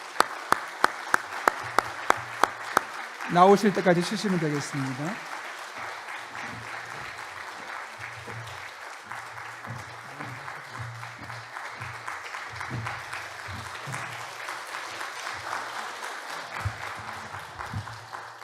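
A church congregation at a Sunday service claps to welcome a guest deacon. Crisp, scattered claps stand out at first, then the applause continues under a voice speaking over it.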